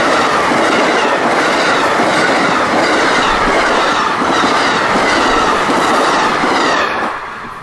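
An Amtrak passenger train roars past close by on double track, wheels clattering rhythmically on the rails, loud and sustained before starting to fade at the end.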